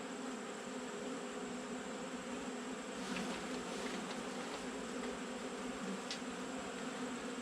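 Honey bees buzz steadily during a hive inspection around rotten, pollen-filled comb, a dense continuous hum close by with faint clicks and rustles on top.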